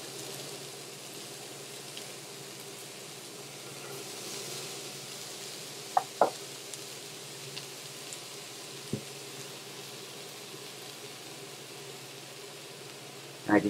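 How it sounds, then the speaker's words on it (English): Beyond Meat plant-based sausage sizzles in a pan as its fat renders, a steady soft crackling hiss broken by a few sharp pops, with no one talking. "my goal is to render some of the fat on this sausage and cook it"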